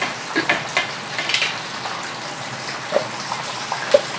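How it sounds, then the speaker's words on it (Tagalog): Lechon kawali pork, being turned to crisp its skin, sizzling and spattering in hot oil, a steady bright fizz with scattered sharp pops and crackles close by. "yan yung gagawin sa pag-fry ng ating lechon kawali para lalong maging crispy ang kanyang balat"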